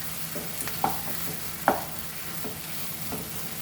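East Indian bottle masala sizzles softly in a pan for a mutton trotters curry, with a spoon giving a few light, irregular stirring clinks over a low, steady frying hiss.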